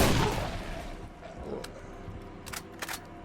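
Turret gunfire in the video game Borderlands (The Zombie Island of Dr. Ned), with a few sharp shots over a dense, steady wash of game noise.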